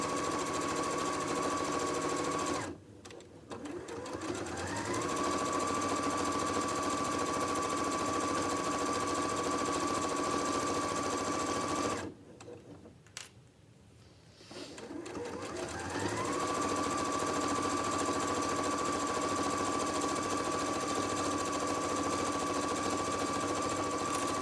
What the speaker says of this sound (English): I'm going to sew all the way down this long edge, making sure I keep my folded edge in line with that plate the whole time